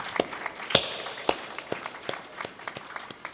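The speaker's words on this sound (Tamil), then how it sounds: "அவருக்கு எங்களது கரகோஷம்." Scattered applause for a flautist at a Carnatic music concert, a few distinct claps rising and then thinning into a light patter across the room.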